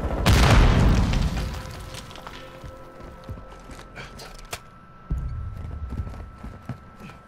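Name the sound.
grenade explosion in video game Call of Duty Modern Warfare 2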